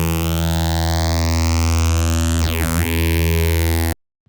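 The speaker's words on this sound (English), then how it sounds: "And this is a phaser." A synthesizer tone run through a phaser effect: a sustained, buzzy note whose harmonics sweep in a rising then falling swirl, with a pronounced dip midway before it cuts off abruptly near the end.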